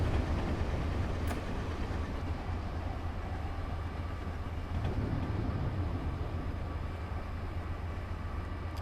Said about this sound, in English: Oh, there goes another train.